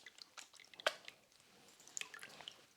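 Wet papier-mâché paper pulp being squeezed by hand over a sink, faint squelching squishes and drips of water, with a sharper wet squeeze near the start.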